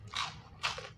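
Crunchy fried squid is bitten and chewed up close, two sharp crisp crunches about half a second apart, with no talk over them.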